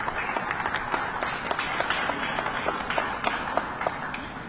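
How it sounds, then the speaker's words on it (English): An audience at the U.S. Mint in Philadelphia applauds steadily, many hands clapping in a dense, even wash with sharper individual claps standing out. "Let's give them a round of applause also."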